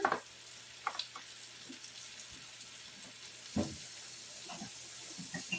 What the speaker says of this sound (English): I'm going to add a little teeny bit of water.